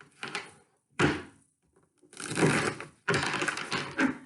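A deck of tarot cards is shuffled in several bursts of riffling and flapping, each separated by short pauses. The sound is close and moderately loud, and no one speaks.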